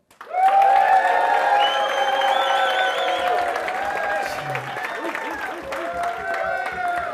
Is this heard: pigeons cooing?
no